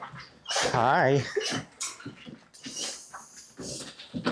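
Puppies at a game fair give a close, high, wavering whimper, followed by scattered small yips and snuffles while a person speaks to them.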